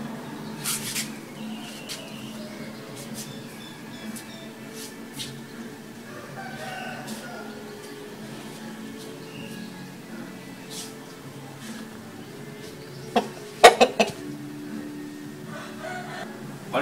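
A Thai fighting-cock breeding rooster gives scattered clucks and short calls against a low background hum, with a louder burst of crowing near the end.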